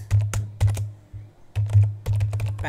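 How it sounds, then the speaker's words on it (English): Computer keyboard keys pressed in short bursts of clicky taps close by while a command is entered in a Windows 11 window, with a brief pause midway and no speech. "Now on this window, type the command get dash"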